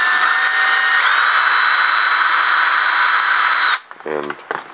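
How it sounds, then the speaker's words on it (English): A handheld power tool whines steadily and loudly up close while deburring and chamfering the end of model railroad track, then stops abruptly and a voice follows briefly. "and chamfer it just a little bit so it'll go in and out easy."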